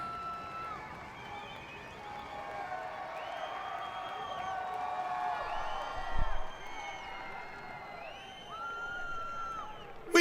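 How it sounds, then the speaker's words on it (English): Grandstand crowd at a drifting event at Mondello, the cheering and whooping rising and falling in waves at a moderate distance, with a brief louder swell near the end. "So, Mondello, make some noise! You get louder!"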